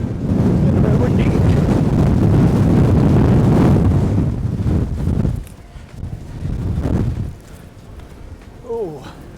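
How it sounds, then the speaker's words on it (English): Strong wind buffets the microphone on a mountain summit near Torridon, roaring loudly for several seconds and then easing into lighter gusts, with brief breathing or voice sounds near the end. "Getting a bit windy"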